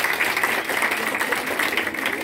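Applause from an audience greeting two classes of high-school students, first-year and final-year, at a school debate event; dense, steady clapping fills the whole stretch, loud and continuous without pause.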